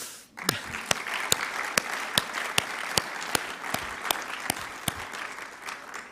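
Audience at a reunion for medical and nursing graduates breaks into applause, dense crowd clapping with a few sharp, distinct claps standing out at a steady pace before it thins toward the end.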